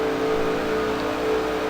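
Race car engines in the TrackMania video game at a Daytona track whine steadily and loudly, a sustained drone with a faint rise, continuous throughout with no talk.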